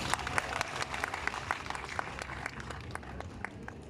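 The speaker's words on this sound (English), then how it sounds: "let's give ourselves a hearty round of applause" A graduating class applauding at a graduation ceremony, a dense steady wash of many hands clapping, somewhat distant and soft, continuous throughout.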